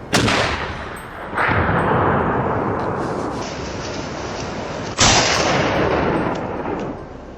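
Gunshots aimed at wild boar on a farm boom out loudly, three heavy blasts each trailing into a long rolling echo that fills the gaps between them, with no talk.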